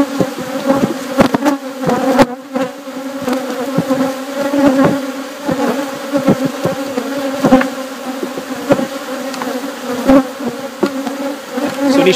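Honeybees swarm around open hives during an inspection in Florida, a loud, dense, continuous buzzing close by with individual bees whizzing past the listener, and no talking.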